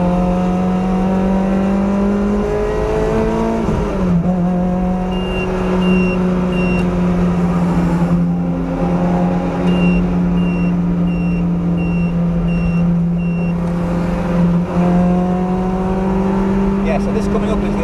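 A Toyota 2ZZ-engined car pulls at full power up a steep hill on the Donington circuit, its engine droning loud and constant from inside, with a strong tonal whine shifting pitch through gear changes while someone talks over it.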